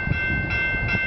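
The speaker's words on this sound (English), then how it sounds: "we got an eastbound train, and the looks of it, it's a BNSF" An eastbound BNSF freight train with auto racks rumbles steadily past a railway crossing nearby with continuous rolling noise and a faint sustained high tone over it, no voices.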